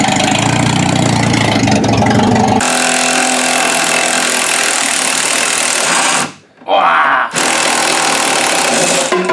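A Buick car engine idles steadily after a cold start, a loud continuous drone that shifts in tone partway through and briefly drops out before resuming.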